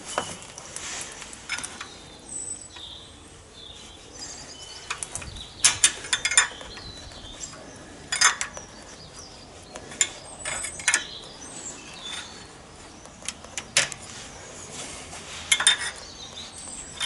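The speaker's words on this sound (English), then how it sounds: "now we can look at getting the rocker cover off and then having a look at the top end there" On an old JCB engine, the rocker cover comes off amid a string of scattered metallic clinks, taps and scraping clatters from spanners and parts, close by and sporadic, with quiet gaps between bursts and no voices.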